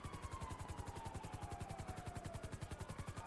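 A helicopter in Grand Theft Auto hovers close overhead, its rotor thumping in a fast, steady pulse throughout, with a faint descending engine whine running beneath.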